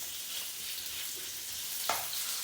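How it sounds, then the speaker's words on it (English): Beef fries in small batches in a hot pan, giving a steady, close sizzle with a brief scrape or stir near the end and no voices. "fry your beef in small batches"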